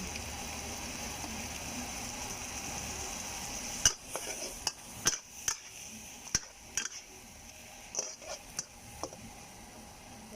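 Squid stir-fried with salted egg and roasted chili paste oil: a steady low sizzle from the wok, then a series of sharp metallic scrapes and clanks of a spatula stirring, spaced irregularly in the second half.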